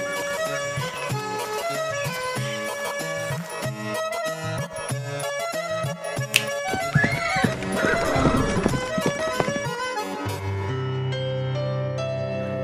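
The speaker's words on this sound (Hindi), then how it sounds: "1 घंटे से हमारे ही घोड़े हम लोगों को ही लात मार मार कर जान लेने पर उतारू हैं।" Horses neigh and whinny amid steady clip-clop hoof stamping, layered over continuous loud music with no speech.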